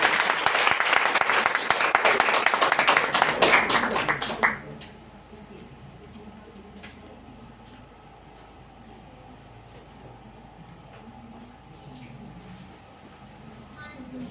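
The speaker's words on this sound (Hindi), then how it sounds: "आप सबकी भरपूर तालियों के साथ" Audience applause welcoming the chief guest at a women empowerment closing ceremony, loud dense clapping for about four seconds that stops abruptly, followed by a quiet room.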